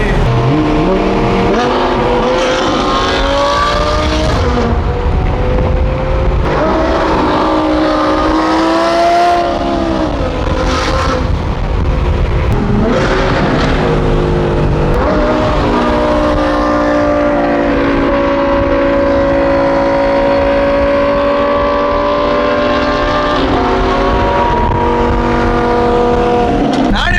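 Straight-piped Audi R8 exhaust roaring and revving loudly and continuously, the engine pitch climbing and falling through repeated aggressive revs.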